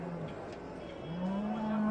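A single cow moos, a low drawn-out call that rises and swells toward the end, fairly near.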